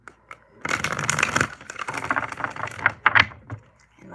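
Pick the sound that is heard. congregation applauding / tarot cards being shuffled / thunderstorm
tarot cards being shuffled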